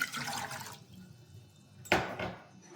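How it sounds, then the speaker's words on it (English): Filtered Berkey water is poured into a cooking pot on a stovetop, a soft splashing stream, then a brief louder burst of water near the end, heard up close and quiet. "to my pot, I'm going to add 2 cups of my Berkey water"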